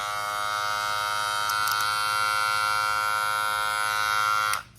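Electric hair clippers fresh from the box run with a steady, loud buzzing hum and dense harmonic whine, holding constant for several seconds before switching off abruptly at the end.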